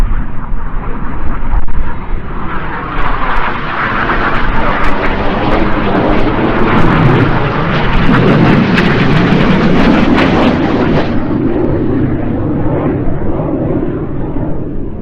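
Red Arrows jet aircraft roaring through a display manoeuvre at the Eastbourne Airshow, a loud sustained engine roar that swells and stays powerful across the whole pass, with no talking.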